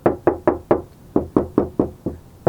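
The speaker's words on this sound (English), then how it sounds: "So right now I'm gonna knock on it." Knuckle knocks on the bare metal panel of a Toyota Tacoma truck without sound deadening: about ten close, hollow, evenly spaced raps in quick succession, each short and resonant, with no talking over them.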